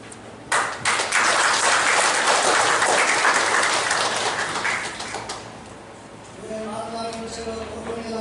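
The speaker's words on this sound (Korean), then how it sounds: "다른 의견에 없으면 박수로 통과시켜 주시기 바랍니다." Applause from members at a clan association's annual general meeting approving a motion: a burst of crowd clapping starts sharply, holds for several seconds, then fades as a voice begins speaking over it.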